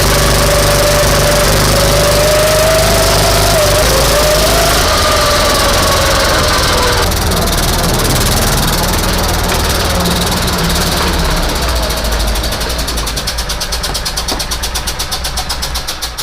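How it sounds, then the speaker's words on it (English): An old rig's engine with a blown exhaust gasket runs loud and raw, a harsh rapid ticking rumble at close range that holds steady and then settles into a choppier idle, with no talk over it. "I think I just blew an exhaust gasket. It just all of a sudden got really loud."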